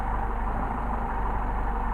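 Car engine with twin Solex carburetors idling steadily and close up, a constant low rumble throughout with no voices.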